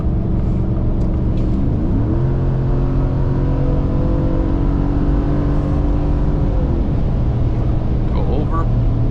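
A Ford F150 with a 5.0 engine roars loudly at night, its harmonics climbing steadily as it accelerates hard to pass traffic, then holding a sustained high drone before easing off near the end.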